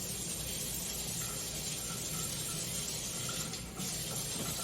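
Warm tap water runs steadily into a measuring cup, a continuous close gushing hiss that stays even throughout, with no talking.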